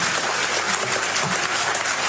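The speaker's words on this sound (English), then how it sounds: "People are clapping hands, they're not clapping hands." Applause from members in a parliament chamber, a dense, even patter of many hands clapping throughout, moderately loud and slightly distant, with no voices standing out.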